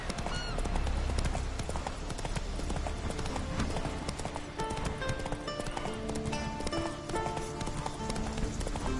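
Horse hooves clip-clop in The Witcher video game, a steady rhythmic trot running throughout beneath dense game music, with occasional voices from the game.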